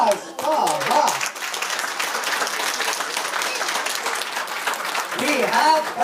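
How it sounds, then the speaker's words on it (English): At a graduation ceremony, a crowd keeps up a steady burst of clapping while people talk over it at moderate loudness. "Let's give him another round of applause"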